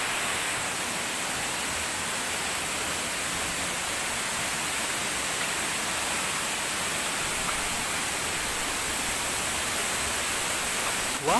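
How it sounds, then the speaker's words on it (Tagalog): Walang Langit Falls pours water down over rock in a steady, unbroken hiss-like roar, dense and constant throughout, with no voices. "Talagang makikita mo talaga yung tubig na bumabagsak."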